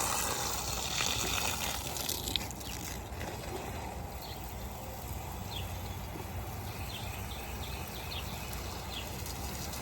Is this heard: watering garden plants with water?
yes